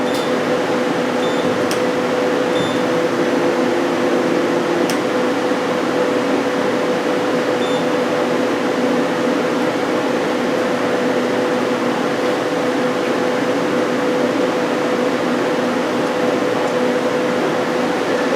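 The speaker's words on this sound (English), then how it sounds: "I'm going to do a quick run of the live tool just so you can see that" A 2008 Hyundai Kia SKT-250LMS CNC lathe with milling and sub-spindle, its live tool spindle running cold at low RPM, giving a steady, loud mechanical hum and hiss that holds constant throughout, close by with no talk.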